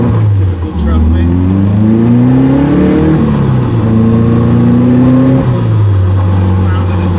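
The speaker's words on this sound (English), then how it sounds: "The sound of this car is addictive, and I love it." A Caterham 310R sports car engine revs loud and close in slow traffic, its pitch rising and falling through several throttle blips over a steady drone.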